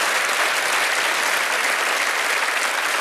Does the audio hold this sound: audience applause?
yes